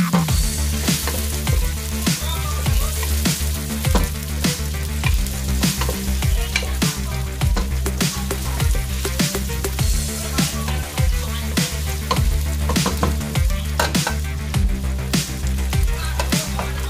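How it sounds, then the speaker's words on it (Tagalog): Chopped onions sautéing in a frying pan for a chicken mushroom and courgette dish, a steady dense sizzle broken by regular scraping stirs, close and continuous with no talking. "ilalagay natin yung sibuyas muna. Sibuyas muna ang ibigisa natin."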